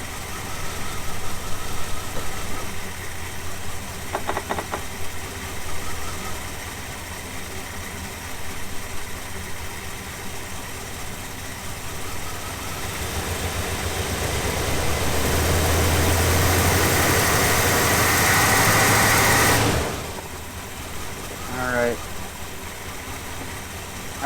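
An old, long-forgotten Chevy truck engine runs steadily, then swells louder and rougher as it is put in gear before dropping back to idle; brief clicks and mechanical rattles cut through near the end.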